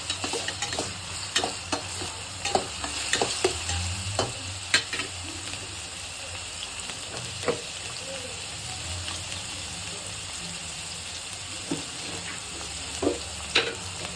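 Talipattu dough made from rice flour with onion sizzles quietly in a pan, with scattered scraping clicks from stirring and no voices.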